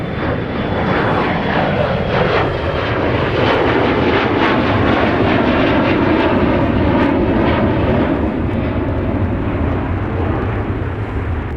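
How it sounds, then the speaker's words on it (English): A Boeing 747 departs Minneapolis–St. Paul airport bound for Chicago O'Hare, its engines a loud, steady, broad roar that fills the whole stretch without pause. "Our 747 departure that is outbound to Chicago O'Hare is imminent"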